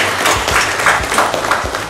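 An audience at a school knowledge competition applauds a welcomed guest with a brief burst of dense, steady clapping filling the room.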